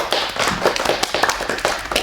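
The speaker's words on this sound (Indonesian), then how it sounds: "Tepuk tangannya dulu." A class claps hands briefly, a few people's uneven, close claps forming a short burst of about two seconds.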